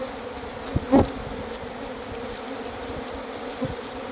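Honeybees from a wild colony being moved into a wooden hive box, a steady close droning buzz throughout, with a couple of soft knocks near the start and one later.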